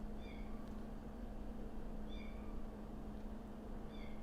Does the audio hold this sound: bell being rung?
no